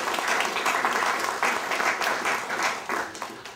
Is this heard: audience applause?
yes